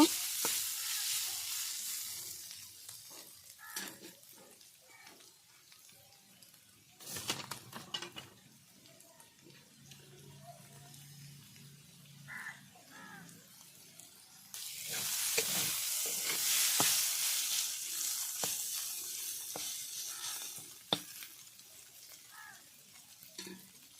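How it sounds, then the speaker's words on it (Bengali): Boiled beetroot fries and sizzles in a pan while being stirred, with steady hiss rising and falling and scraping stirring strokes, louder bursts near the middle and end, no talk. "তো এবার আমি ভালো করে ভেজে নেব।"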